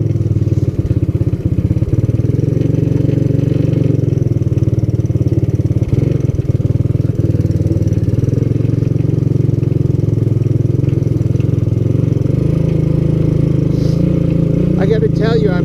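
A vintage Honda ATC200S engine hums at a steady, loud mid pitch as it builds speed, its drone constant throughout with light rattling, and a voice talks over it.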